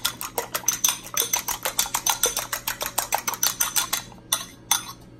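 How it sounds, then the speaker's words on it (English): Rapid, steady clicking of a fork or whisk beating two eggs in a bowl, a quick rhythmic tapping that slows and stops near the end. "I have 2 eggs right here. I'm just whisking up."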